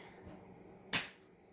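A single sharp snip as the end of a zip tie is cut off on a snowflake craft, one quick close click that stands out from quiet room tone.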